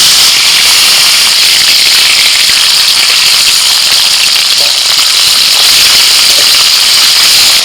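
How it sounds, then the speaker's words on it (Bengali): Hilsa fish heads fry in hot oil in a wok, giving a loud, steady hiss with scattered crackles that carry evenly through the whole stretch. "তেল গরম হয়ে গেছে, এখন মাছের মাথাগুলো ভেজে নিচ্ছি।"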